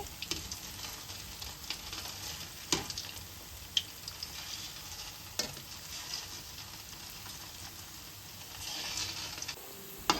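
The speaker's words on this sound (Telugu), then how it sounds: "స్టవ్ మీడియం ఫ్లేమ్లో పెట్టుకుని వేపుకోవాలి ఫ్రెండ్స్ లేకపోతే మాడిపోతాయి" Semiya boorelu deep-frying in oil over a medium flame give a steady, dense sizzle throughout, with a few sharp clinks of a utensil against the pan and no voices.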